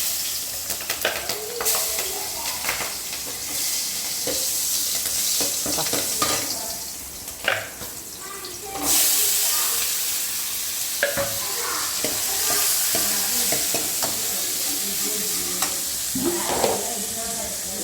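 Green chilies frying in a pan while tomato kuzhambu is cooked, with a steady sizzle broken by repeated spoon scrapes and clinks, and a louder burst of hiss partway through.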